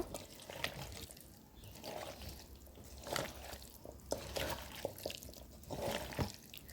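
Rohu fish pieces are mixed by hand into a curry masala for dopiaza, producing soft, wet squelching and patting sounds in irregular bursts, close but faint.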